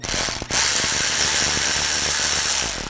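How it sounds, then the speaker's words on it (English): A ratchet fitted with a T20 socket backs screws out of the side panels on a 2004-2009 Audi A4, giving loud, close, rapid continuous clicking with a brief pause near the start. "Use a T20 socket."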